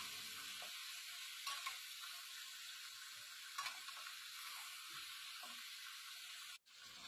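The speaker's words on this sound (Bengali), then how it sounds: "চিকেনগুলো নেড়ে চেড়ে বেশ সময় নিয়ে ভেজে নিলাম" Chicken pieces frying in a pan, a steady broad hiss of sizzling oil running throughout with occasional soft scrapes and clinks as they are stirred, briefly cutting out near the end.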